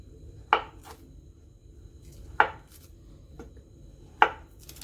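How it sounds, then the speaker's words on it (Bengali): A knife chops bananas into pieces on a board, giving three sharp, widely spaced thuds, each followed by a fainter tap. The background is quiet and there is no talk. "প্রথমে কলাগুলোকে আমি পিস করে নিচ্ছি।"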